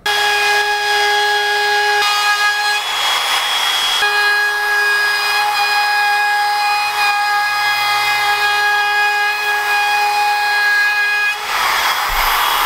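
A loud, steady high-pitched whine of a router rounding over the top edge of an epoxy river table, with a few brief changes in tone as it moves along the edge.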